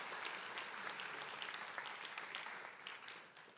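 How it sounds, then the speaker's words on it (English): Applause for a coach at a high school basketball awards event, quiet and somewhat distant, a steady patter of many hands that thins toward the end. "let's give an applause to Coach David Stiefel"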